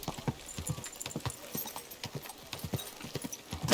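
Horse hooves clip-clop in a steady, quick rhythm in the video game Kingdom Come: Deliverance II, close and clear, with a faint background ambience and no talking.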